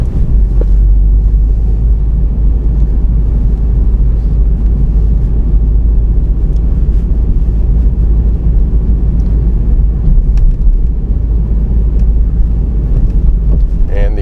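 A car rolls through an intersection on a snowy, icy winter road during a driving test, its steady, loud interior engine and road rumble droning without a break from start to finish.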